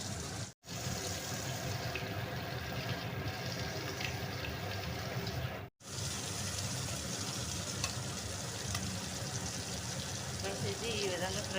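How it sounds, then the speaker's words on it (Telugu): Bochu fish pieces fry in hot oil, giving a steady, dense sizzle and crackle that lasts throughout with two brief dropouts, while a voice talks faintly in the background. "ఇది ఈ విధంగా ఫ్రై అవుతాయి అన్నమాట. బొచ్చు చేప ముక్కలు అనమాట"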